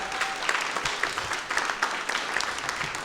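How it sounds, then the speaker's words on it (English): Steady applause from a live-show audience at The Bell House in New York, dense overlapping clapping filling the room continuously at moderate volume with no voices on top. "Everyone, please give a round of applause for Pascal."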